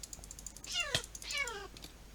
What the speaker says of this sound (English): Goddamn cat.